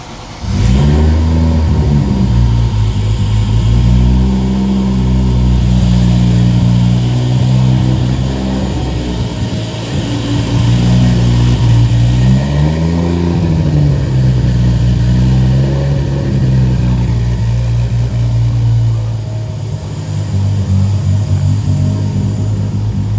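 A 1JZGTE turbo engine swapped into a Chrysler Conquest with a MagnaFlow muffler runs loud and close, idling with a deep steady drone, then revving up and settling back several times in smooth swells.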